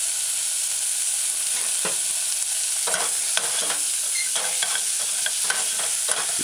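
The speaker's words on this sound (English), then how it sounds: "kind of stir in the ingredients a few times" Ingredients for a saltfish and chickpea stew with mashed garlic and pimento berries are stirred in a pot, a steady background hiss broken by a run of soft scraping strokes in the second half, close and alone.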